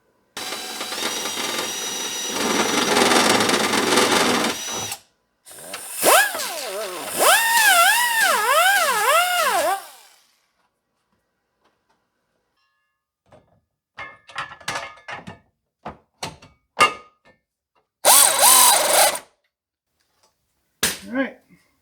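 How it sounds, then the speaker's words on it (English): A handheld drill fitted with a 3/8 end mill slots a steel front hitch bracket for a Jeep Cherokee XJ, giving about ten seconds of wavering, whining motor noise up close, followed by quiet and then scattered clanks and taps. "I put a 3/8 end mill in the end of the drill"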